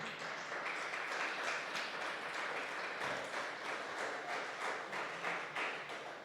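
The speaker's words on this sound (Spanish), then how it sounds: "Dale una vez más otro fuerte aplauso al Señor" Church congregation applauding during a service, a quiet, distant wash of many hands clapping at an even pace throughout.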